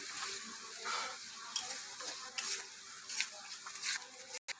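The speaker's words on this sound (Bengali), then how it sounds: "এরপর দিয়ে দেবো পোস্ত বাটা এরপর ভালোভাবে এটাকে নেড়ে চেড়ে নেবো" Ground poppy seed paste frying in oil for a rohu fish posto curry gives off a faint, steady sizzle, broken by scattered soft scrapes and taps as it is stirred.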